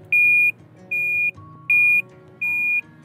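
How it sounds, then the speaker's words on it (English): A sailboat's bilge pump alarm beeps four times in a steady rhythm, loud and piercing, each tone lasting about half a second. "The sound of the bilge pump alarm kept ringing in our heads."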